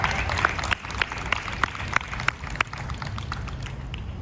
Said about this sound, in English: Please help me give another thunderous round of applause for Danny Cage, please.